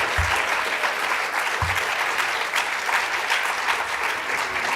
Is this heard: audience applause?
yes